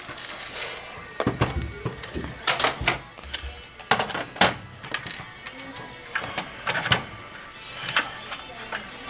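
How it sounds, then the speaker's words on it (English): Small screws from a Nintendo Super Famicom console clicking and rattling as they are unscrewed and set down, a series of sharp close taps at irregular intervals, with faint talk in between. "So unscrew 6 screws right there."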